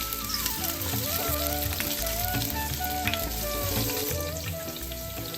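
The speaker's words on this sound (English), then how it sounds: "Fry the chopped garlic till golden brown." Chopped garlic frying in hot oil in a large vessel, a steady close sizzle running the full length with light stirring scrapes and a continuous tonal background.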